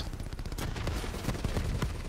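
Rapid bursts of gunfire in Call of Duty: Black Ops, a dense stream of overlapping shots from several weapons crackling continuously at moderate loudness.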